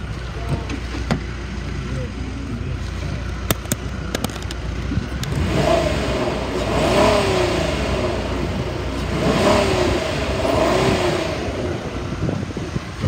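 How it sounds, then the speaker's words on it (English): The 3.5-liter V6 of a 2011 Ford Explorer idles, then revs up twice in smooth, rising surges before settling back, with a steady rumble and some wind noise outdoors. "I'm gonna rev it up so you can hear it."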